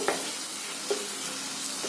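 Ginger paste frying in a pan for a prawn malai curry gives a soft, steady sizzle, with two brief scrapes of stirring. It sounds close and fairly quiet.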